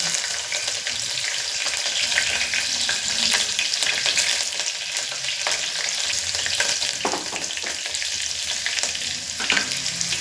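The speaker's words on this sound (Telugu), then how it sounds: "పచ్చిమిరపకాయలు బాగా చిప్పట్లు ఆడుతున్నాయి బాగా ఫ్రై అయిపోయింది" Green chilies crackle and spit in hot oil inside a pressure cooker, a dense, steady sizzle with sharp pops scattered throughout, fairly loud and close with no voices.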